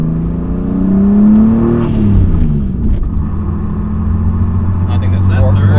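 A JDM 1993 Toyota Supra MKIV pulls hard through the gears from inside the car, its engine note climbing in rising sweeps and dropping at each shift, loud and close, with people talking over it.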